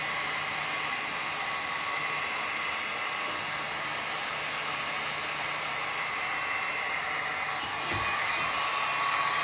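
A heat gun blows steadily while heating window tint film on a 2004 Dodge Ram, giving a constant loud whooshing hiss with a faint hum and no talking.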